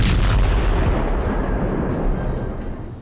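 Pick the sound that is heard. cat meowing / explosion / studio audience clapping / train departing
explosion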